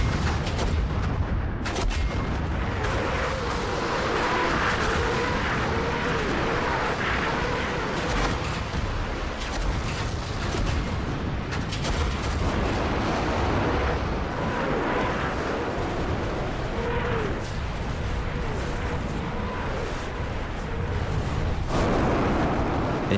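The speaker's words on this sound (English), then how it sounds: "At 2 a.m., they unleash their artillery and Katyusha rockets." A Soviet artillery and Katyusha rocket barrage thunders in a dense, continuous wash of booms and rumbling blasts, loud and sustained with no voices.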